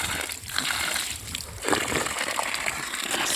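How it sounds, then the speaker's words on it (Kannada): Water gushes and sloshes steadily through a joined pipe in a village setting, a fairly faint continuous rushing with small splashing surges. "ನೋಡಿ, ಇಲ್ಲಿ ಫುಲ್ಲು ನೀರು ಹೋಗ್ತೈತೆ."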